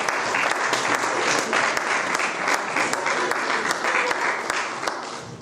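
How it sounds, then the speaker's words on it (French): An audience at a special Christmas Eve church service applauds continuously, a dense, loud clatter of many hands clapping that fills the space and fades slightly at the end. "Vous pouvez les acclamer, s'il vous plaît."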